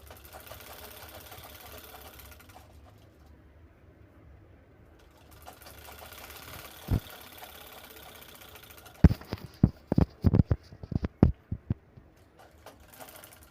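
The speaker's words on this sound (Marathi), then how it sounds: "त्याआधी आपल्याला शिलाई घ्यायची आहे साईडने सगळी" Sewing machine stitching along the side seam of a fabric bag made from scraps: a low steady motor whir at first, then a quick run of sharp rhythmic needle clatters, close and fairly loud, with no talk.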